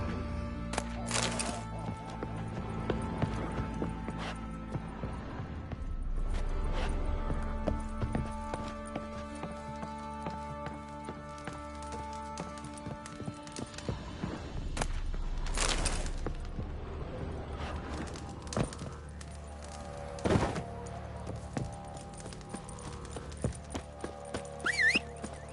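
A horse's hooves clip-clop in a steady galloping rhythm through The Witcher 3 game audio, fairly faint beneath music and scattered game effects. The gait continues throughout, with occasional louder impacts.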